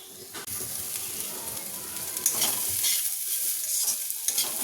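Cauliflower pakoras frying in hot oil, a loud continuous hissing sizzle that starts abruptly and carries on with faint stirring scrapes, close and without speech.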